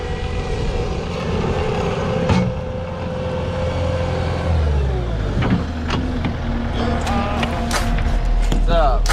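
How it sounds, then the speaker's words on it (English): A motocross bike rides around a dirt track, its engine droning loud and steady, then dropping in pitch and climbing again as the rider shifts and revs, with sharp clatters near the end and people talking over it. "Jackson's trying out his new creations on my bike real quick"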